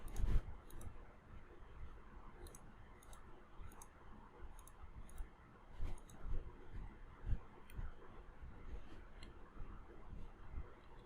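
Mouse clicks placing points for a curve in Houdini 3D software, a scattered series of soft, close taps at an uneven pace over quiet room tone.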